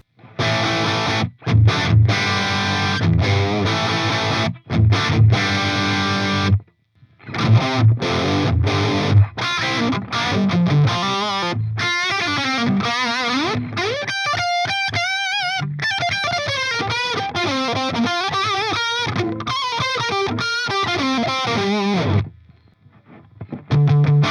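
Heavily distorted electric guitar riffs through a Fryette Deliverance tube amp head, loud chugging chords with brief stops, then sustained bending lead notes ringing with overdrive.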